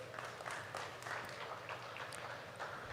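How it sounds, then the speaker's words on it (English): Applause from spectators at a cattle show judging pairs of cows, a quiet, distant patter of scattered clapping across a large arena with a low background hum. "Give them a round of applause if you will."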